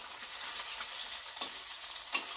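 Chillies fry in oil with a soft, continuous sizzle. A couple of stirring scrapes break through, and the sound stays fairly quiet with no speech.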